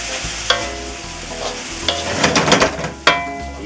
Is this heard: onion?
yes